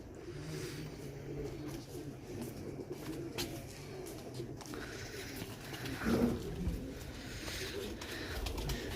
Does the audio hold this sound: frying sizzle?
no